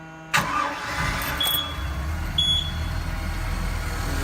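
A car engine cranks and starts with a sudden burst, then settles into a steady idle, joined by two short high electronic beeps.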